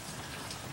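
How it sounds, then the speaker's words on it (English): Light drizzling rain outdoors beside a house, a soft, even hiss of fine drops with no distinct strikes, faint and continuous. "Basically this, just kind of drizzling."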